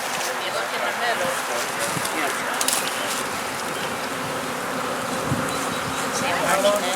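A honey bee swarm drones in a dense, continuous buzz that holds steady for the whole stretch, with faint voices in the background.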